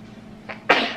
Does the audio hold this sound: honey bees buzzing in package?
no